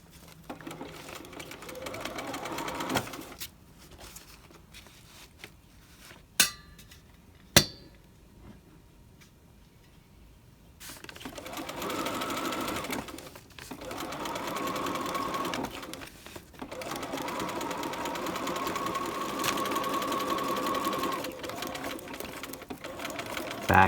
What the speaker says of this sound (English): we're going to put it under the foot and sew